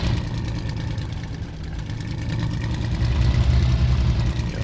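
A Messerschmitt Bf 109 aircraft engine rumbles low and steady while the plane taxis, a deep, close piston drone that swells slightly louder toward the end.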